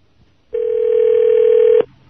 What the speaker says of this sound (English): This is my parents calling a guy named Howard.